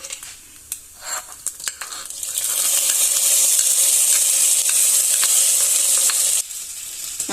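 Hot coconut-oil tempering hits a pot of jackfruit erissery with a loud, steady sizzle that swells after a few clattering spoon taps and holds near and continuous before easing slightly at the end.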